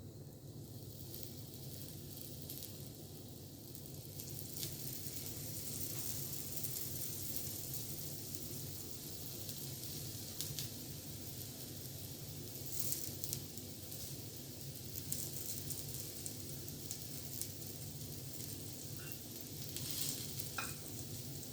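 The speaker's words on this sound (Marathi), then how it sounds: "त्यात थोडं थोडं तेल घालून मी फ्राय करून घेते आहे." Drumstick pods shallow-frying in a little oil, a steady low sizzle and crackle that runs throughout at moderate distance, with occasional faint clinks and no talking.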